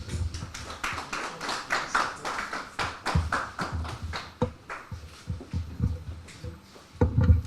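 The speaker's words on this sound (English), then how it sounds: "Keep clapping." Audience applause at a web app launch event for Ijeawele Invest in 2025, a steady patter of many hands clapping throughout, rising briefly louder near the end, with no talk over it.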